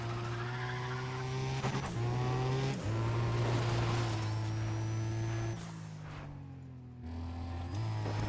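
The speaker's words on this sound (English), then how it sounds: "This is some close R34 racing here." Nissan Skyline R34 race cars in close racing in Need for Speed: ProStreet, engines droning loud and steady with pitch jumps through gear shifts and a dip as revs drop before climbing again.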